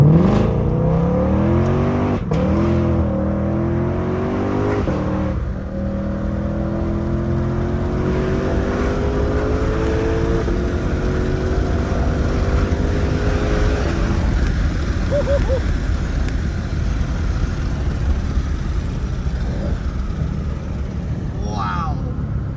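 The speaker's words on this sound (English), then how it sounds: "we're gonna roll down the window a bit so you guys can hear the exhaust" A 2020 Ford Mustang Shelby GT500 Carbon Track Pack engine revs and roars continuously through its exhaust, rising in pitch as it accelerates, heard from inside the cabin with the window partly down, a steady loud drone.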